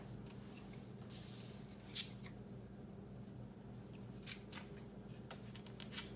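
Scissors cut printed paper images for a cake decoration, giving faint, close snips and crisp paper rustles in irregular bursts over a low background hum.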